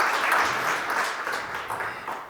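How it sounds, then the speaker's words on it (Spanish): An audience at a talk on a magic pavilion breaks into a burst of loud, dense clapping that gradually thins out, with no voices. "darle un fuerte aplauso"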